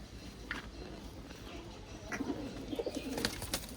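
A tula pigeon coos softly in a few low, throaty bursts, faint and close, with small chirps and light background noise around it.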